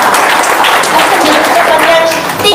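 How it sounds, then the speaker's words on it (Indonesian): Studio audience applauds in a steady, dense burst of clapping, fairly loud and close, with a voice briefly calling out over it. "Tepuk tangan dong."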